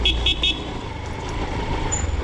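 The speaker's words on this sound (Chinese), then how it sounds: "喇叭声的回声" A vehicle horn sounds in a few short toots on a steep, broken mountain road in Xinjiang, its blasts ringing back off the slopes as a faint echo over a low engine rumble.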